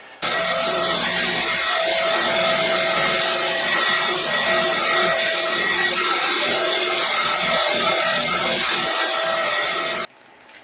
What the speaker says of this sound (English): I had this wheel grinder.